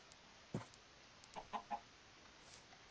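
A Minecraft chicken gives a few short, faint clucks in a quick cluster over quiet game background, with a brief soft effect near the end.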